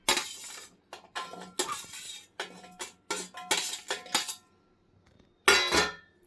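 Soaked dry fruits tipped into a mixer jar for a coconut milk shake make a series of close, sharp clinks and clatters against the jar, in irregular bursts separated by brief silences.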